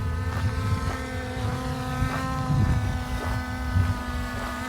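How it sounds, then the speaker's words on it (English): A Skydio 2 drone flies over varied terrain at the Snake River Canyon, its propellers giving a steady, close, tonal buzz that swells slightly as it adjusts, with low wind rumble underneath and no talking. "So the drone is having to adjust itself for the terrain."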